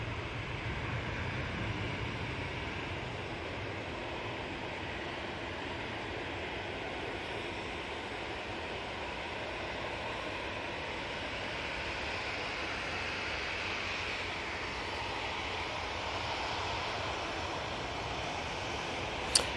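Airliner landing on runway 23 right at Manchester Airport, a steady distant broadband engine roar holding level throughout, heard from afar with no voices over it.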